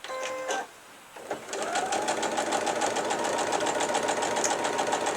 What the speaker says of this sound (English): I'm just stitching down that line on 1/4 inch